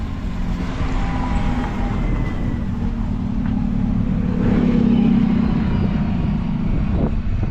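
A small train on the way to the Polish mountains gives off a steady, fairly loud low rumble and engine drone that swells slightly midway, with no voices.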